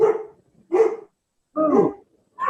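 A dog barks four times in sharp, evenly spaced bursts separated by short silences, fairly loud and close, with no talking in between.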